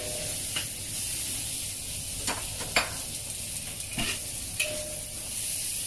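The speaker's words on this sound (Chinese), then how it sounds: "洋葱倒埋落去" Onion is tossed into a hot pan and stir-fried for a honey pork belly dish, a steady close sizzle broken by several sharp spatula scrapes and clacks, with no talking.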